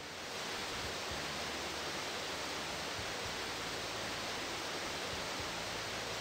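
Steady broadband rushing of waterfalls in the Grandia II video game, a continuous loud wash of water noise with no pauses, filling the whole stretch without voices.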